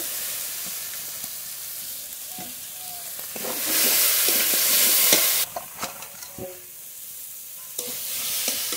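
Deboned fish pieces go into spice masala cooked until the oil separates, giving a steady oily sizzle that swells into a loud hiss, with scattered clinks and scrapes of stirring close by.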